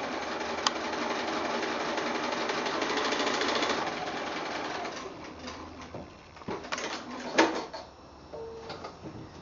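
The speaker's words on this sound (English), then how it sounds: "So just sew on that line, and then I'm going to flip that around and sew on the next one." A sewing machine runs steadily while stitching quilt block seams, a close, even mechanical whir for several seconds, followed by quieter handling clicks and rustles.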